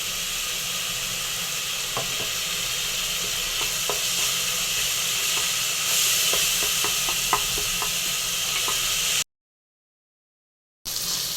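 Oyster mushroom gravy ingredients with chilli powder sizzling and sautéing in a pan, a steady close frying hiss with occasional stirring clicks, briefly cut to silence near the end.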